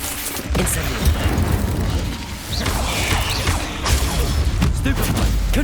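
Confringo and Stupefy spell blasts in Hogwarts Legacy, a steady barrage of booming impacts, crackles and clattering effects layered densely over several seconds of loud combat.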